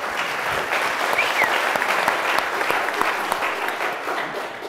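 A conference audience gives a sustained round of applause at a business launch event, a steady dense crackle of clapping that carries evenly throughout with a faint voice or two underneath.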